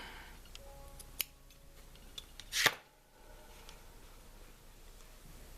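Scissors snip off yarn loops on a punch needle project, a single sharp close cut standing out briefly against a quiet background, with a few faint ticks before it.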